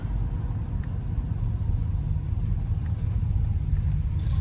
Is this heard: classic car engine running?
yes